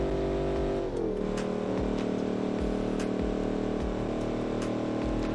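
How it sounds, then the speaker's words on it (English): A V8 car engine in the BeamNG driving game runs with a deep, steady, rumbling drone, with the pitch dipping briefly before holding even and loud. "It's a good sounding V8."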